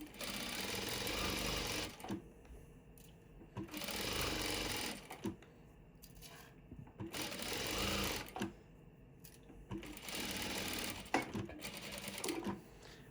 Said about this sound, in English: I'm going to stitch 1/4 of an inch either side of the line